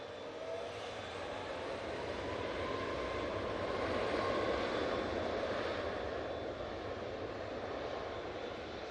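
Ryanair Boeing 737 Max 8 jet departing Manchester Airport, a loud, steady broadband engine roar that swells slightly toward the middle and holds for the whole stretch, with no talking over it.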